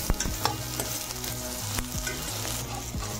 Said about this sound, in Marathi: छान आपण तेलामध्ये याला फ्राय करून घेणार आहोत एक 3 ते 4 मिनिट